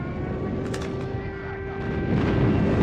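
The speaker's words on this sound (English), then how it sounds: "Friendly airstrike incoming." Airstrike explosions rumble and boom in Call of Duty Mobile, heavy low blasts rolling under continuous game noise and a few sharper cracks, with no talking.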